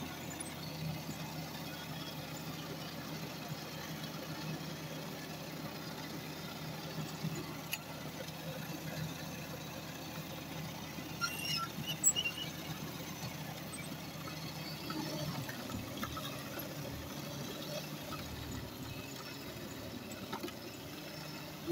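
A 1965 snowblower converted to electric power runs with a steady, fairly faint motor hum that shifts and roughens partway through as it works; no speech is heard.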